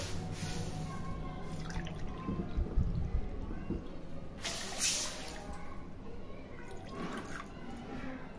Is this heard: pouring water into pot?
yes